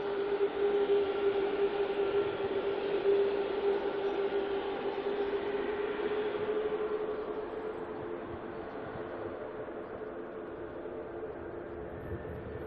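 A Royal Thai Air Force Airbus A340-500 jet departs Auckland Airport, its engines a steady loud roar with a whining tone that slowly fades as the four-engine aircraft climbs away.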